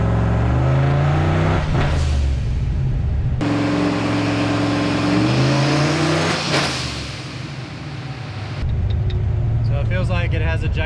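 A Foxbody Mustang with an On3 turbo kit and Megasquirt tuning revs hard on a dyno, engine pitch rising in loud sustained pulls that cut and resume, with a voice talking over the engine.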